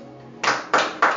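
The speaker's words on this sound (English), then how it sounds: "But you are clapping because I've said it." Brief burst of applause from a church congregation, a few sharp separate clapping hits after a quiet moment, short and close.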